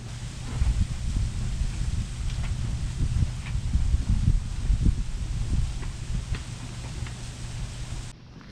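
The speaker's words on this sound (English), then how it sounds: "sorry about the wind. It's a little windy today." Wind buffets the microphone in a continuous low rumble that rises and falls, then cuts off abruptly at the end.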